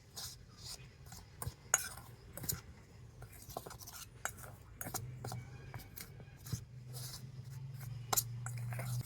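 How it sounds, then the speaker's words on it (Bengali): Powdered sugar and flour being mixed in a bowl for mango pitha, heard as quiet, irregular scraping and light clinking of a spoon against the bowl, close and soft, with faint room noise between strokes. "তো শুকনো উপকরণগুলো একটু মিশিয়ে নেব।"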